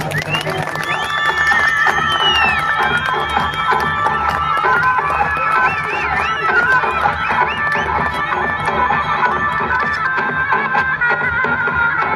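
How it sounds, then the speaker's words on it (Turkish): A large rally crowd in Urfa, Turkey, cheers and shouts continuously for parliamentary candidates at a political party event, with whistles and voices rising over a steady, loud roar that fills the whole stretch. "Alkışlarınızla."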